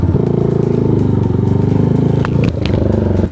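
An IGM KPR 250 motorcycle engine runs loud and close with a steady throbbing idle, then revs and pulls away near the end, with a few clicks and clatters mixed in.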